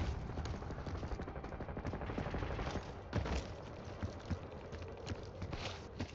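Rapid video game gunfire crackles through a busy firefight, dense bursts and shots layered continuously with a few louder cracks standing out, no voices over it.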